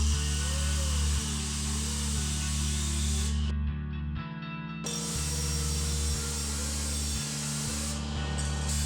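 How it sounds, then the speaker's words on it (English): A power tool with the thinnest available cutoff wheel slicing through a metal exhaust pipe, a steady loud whine and spray-like grinding hiss that briefly cuts out partway, then resumes, heard alone without talk. "Here we're using the thinnest cutoff wheel we could find at Home Depot."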